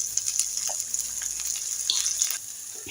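Chicken and spices fry in oil in a pan, giving a steady, close hiss with small crackles throughout and no talking.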